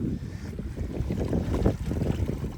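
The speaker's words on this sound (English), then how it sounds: "I got out and I set sail and we're sailing." A home-built 38-foot wooden sailboat under way under sail, a rushing wash of wind and water close to the microphone with low rumbling buffets, steady and without voices.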